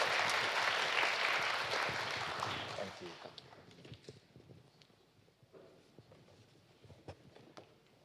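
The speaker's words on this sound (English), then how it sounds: "let's give another round of applause to our amazing panelists" A tech summit audience applauds panelists, a dense burst of clapping for about three seconds that fades into scattered claps, shuffling and low murmur.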